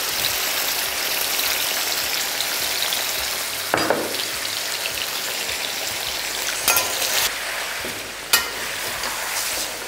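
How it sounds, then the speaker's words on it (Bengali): Chicken pieces dropped into hot oil over a high flame give a steady, loud frying sizzle throughout, with a few brief clatters of stirring and no talking. "তেলটা গরম হয়ে গেছে পুরো চিকেনটাকে আমি এখানে দিয়ে দিচ্ছি আর ফ্লেমটা কিন্তু এই সময় আপনারা একদম হাই রাখবেন"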